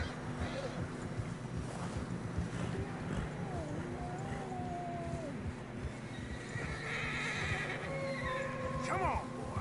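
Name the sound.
horse whinnying and hooves in snow, from video game Red Dead Redemption 2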